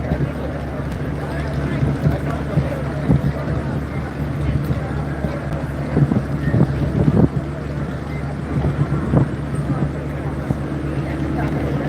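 Sadarghat launch terminal in Dhaka, with passenger launches waiting to depart, fills with a loud, steady wash of engine rumble, wind and crowd noise, and a few brief thuds and bangs stand out.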